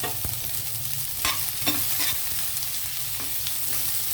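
Carrots and beans stir-frying with onions in a pan for pulao, a steady sizzle broken by scraping stirs of a spatula, close and clear with no talk.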